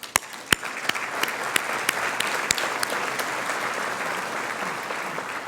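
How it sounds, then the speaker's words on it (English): An audience applauds the sponsors at a regional council's State of the Region event, a dense, steady wash of clapping with a few sharp individual claps standing out near the start. "we should applaud for them too."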